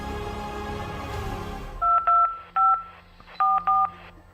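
A telephone is dialed to call a doctor in an emergency, a series of short touch-tone beeps in separate pairs and groups following a fading louder sound, heard alone without talk.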